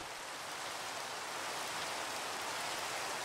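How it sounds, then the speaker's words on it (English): Steady rain falls in the Minecraft modpack Sevtech: Ages, a constant, even hiss of raindrops that is soft but fills the scene, with no other sounds. "This way the rain will stop and it won't snow on my stuff"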